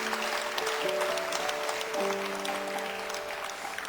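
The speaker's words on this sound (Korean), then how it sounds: "박수로 격려해 주시면 감사하겠습니다." Applause fills a church during a graduation ceremony for an evangelism training course, a steady wash of clapping over about four seconds, with sustained tonal notes held beneath it.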